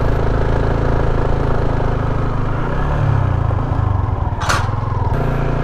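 A motorcycle engine strains up a very steep slope in second gear with a heavy load, a continuous close rumbling drone that dips and wavers in the middle, briefly overlaid by a short hissing burst near the end.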